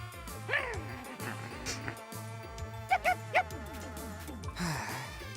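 An anthropomorphic dog creature in the Puyo Puyo Tetris video game gives a string of barks, yips and whimpering cries with game music running steadily underneath.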